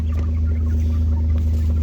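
Chickens in a mobile chicken tractor cluck softly over a loud, steady low hum, a few scattered calls close by with no talking.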